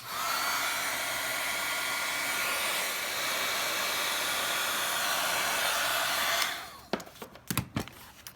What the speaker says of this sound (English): we heated that powder until it was nice and shiny